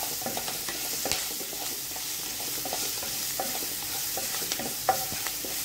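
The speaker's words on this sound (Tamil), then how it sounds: "இது கூட நம்ம அரைச்சி வச்ச பூண்டு பச்சை மிளகாய் பேஸ்ட்டாக சேர்த்துக்கலாம். சேர்த்துட்டு அதை நல்லா மிக்ஸ் பண்ணிக்கலாம்." Garlic and green chili paste being mixed in a hot pan, a steady sizzle with scattered scraping stirs and light knocks of a utensil, close up and without talk.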